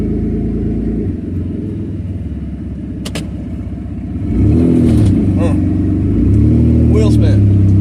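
A vehicle's engine rumbles and revs as its wheels spin while driving up a road, rising louder after a few seconds, with a person talking over it.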